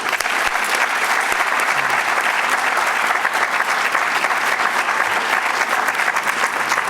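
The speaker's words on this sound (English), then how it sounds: "Let's have a final applause for our wonderful guests." An audience applauds guests at the close of a public forum on political polarization, with dense, sustained clapping that fills the room at an even, loud level throughout.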